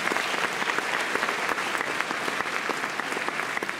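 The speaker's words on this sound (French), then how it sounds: "s'il vous plaît, applaudissements pour Olivier Le Normand." An audience at the Miss Picardie 2020 pageant claps for a sponsor, a full, sustained round of applause from a large crowd with sharp individual claps standing out throughout.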